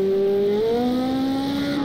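A race car in Project CARS 2 at the Nürburgring accelerates hard out of a corner, its loud engine note rising and shifting pitch through the revs, close and clear with no talk.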